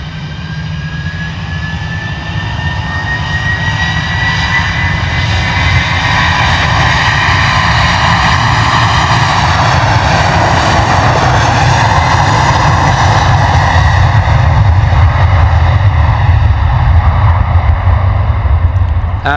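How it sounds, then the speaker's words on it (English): A DHL Airbus A300 roars on its takeoff roll out of London Luton, its jet engines a loud, steady, sustained rumble with a rising whine, close and alone without voices. "We're going to boost the volume for this guy so we can hear the roar of those beautiful engines on the A300"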